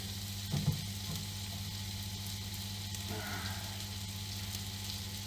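Meatballs frying in a pan give a low, continuous sizzle with a faint background hum and an occasional small clatter.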